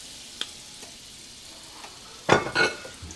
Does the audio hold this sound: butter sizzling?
yes